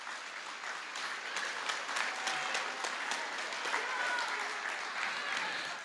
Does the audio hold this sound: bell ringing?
no